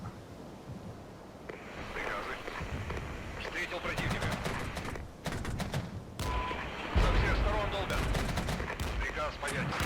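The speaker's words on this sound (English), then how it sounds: "that artillery we cannot ignore" Artillery and gunfire in the military strategy game Regiments, a dense barrage of sharp repeated bangs and rattling bursts that builds in the second half, with booming low impacts under someone talking.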